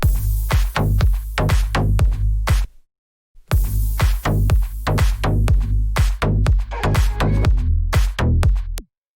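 Beefy Selected-style bassline built in Phase Plant synth: a dense run of rapid, loud bass stabs in a busy groove, cut by a brief gap of silence near the middle before the pattern returns and stops.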